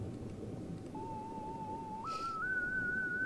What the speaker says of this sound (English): How about a whistle?